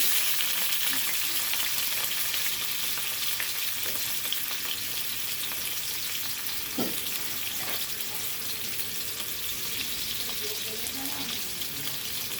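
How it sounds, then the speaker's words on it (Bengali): Potatoes and papaya frying in oil, a constant dense hissing sizzle close up with a few faint clinks of stirring, steady throughout with no clear talk. "আলু আর পেঁপে দুটোই ভাজছি।"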